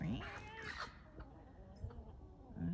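Hens squawk and cluck agitatedly in a brief fight, with quieter clucking in between; a faint voice is also present.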